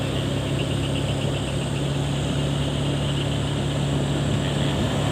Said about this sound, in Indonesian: Molennya, mesin molen ini